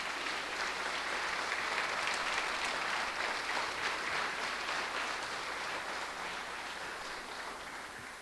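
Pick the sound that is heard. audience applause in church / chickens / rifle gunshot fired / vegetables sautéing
audience applause in church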